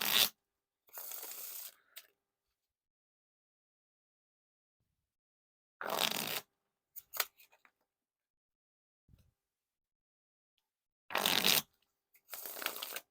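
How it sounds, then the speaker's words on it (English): Marvel Pop playing cards riffle and bridge shuffled in three separate bursts, each a short crisp fluttering rush of interleaving cards followed by a softer cascading settle, with quiet handling clicks in between and no voices. "Now for the riffle shuffle or bridge shuffle."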